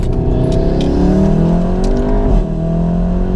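Stage 3 Volkswagen Golf R wagon tuned to 500 bhp, its engine droning loud and steady from inside the cabin while driving and braking, with a slight dip in tone near the end.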